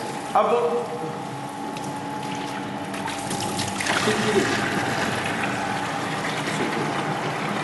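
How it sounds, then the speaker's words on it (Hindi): Water gushes steadily from a just-opened valve on a hydraulic bench in a lab, a continuous close rushing flow with a sharp onset that thickens and grows slightly louder partway through. "जैसे ही मैं इस वाल्व को खोलता हूँ, अब आप देख रहे हैं ये पानी का फ्लो, पानी निकलना शुरू हो गया है"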